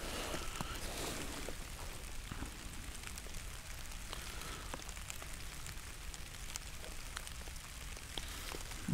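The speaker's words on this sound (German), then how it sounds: "Inzwischen hat es angefangen zu regnen." Rain patters steadily outdoors, a faint, dense crackle of drops on surfaces with no one speaking.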